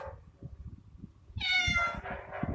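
A cat meows once, a drawn-out rising then falling cry, close to the microphone, over low background rumble and soft movement noises.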